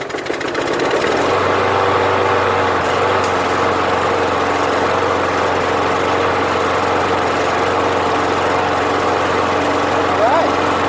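A Ryobi lawn mower with a 6.5 hp Briggs & Stratton engine, just after a carburetor clean, starts and keeps running with a loud, steady close-up drone.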